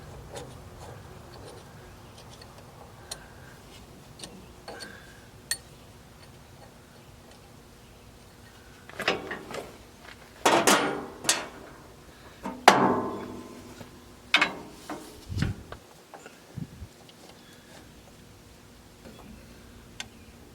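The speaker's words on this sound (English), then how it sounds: "I'll just start driving it from the other side and just pound that thing all the way through" A hammer drives a pin on a Farmall M tractor in a workshop, a sparse run of sharp metallic strikes clustered in the middle, with faint ticks and quiet gaps before and after.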